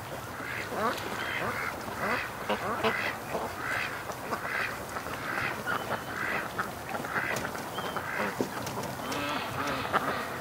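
A group of ducks behind a house by the water quacks continually in a busy, overlapping chatter of short calls, at moderate distance with some background noise.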